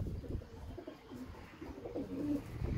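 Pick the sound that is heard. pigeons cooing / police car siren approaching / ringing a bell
pigeons cooing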